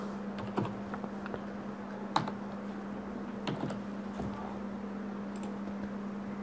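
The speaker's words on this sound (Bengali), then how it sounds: "দেন হচ্ছে এন্টার কি দিবেন।" Quiet typing on a computer keyboard, with a few sparse, separated keystrokes including a firmer press like an enter key, over a steady low electrical hum.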